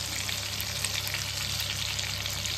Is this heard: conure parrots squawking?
no